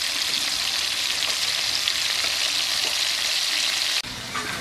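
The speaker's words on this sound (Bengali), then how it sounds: "এটা আবার গরম তেলে দিয়ে ভেজে নেব।" Eel pieces frying in hot oil, a steady loud hiss of crackling sizzle close up, dropping abruptly in level near the end.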